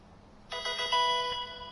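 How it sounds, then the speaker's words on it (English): A computer notification chime rings out suddenly after a moment of quiet, a short bright melodic tone that sustains and fades with no talk over it. "I don't want to hear notifications"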